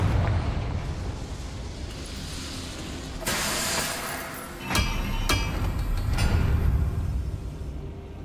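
A Confringo spell explodes in the Hogwarts Legacy video game, a burst of fiery blasts with several sharp cracks and crackling debris over a steady rumbling game ambience, fairly loud and close.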